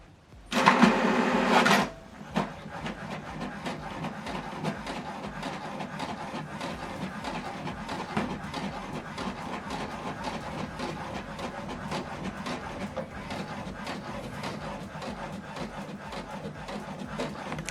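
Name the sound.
HP Deskjet 2800e inkjet printer printing a document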